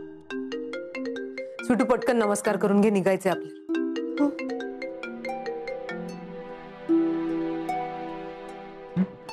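A mobile phone ringtone plays a bright, melodic electronic tune in a Marathi TV serial scene, ringing steadily for several seconds while people talk over it.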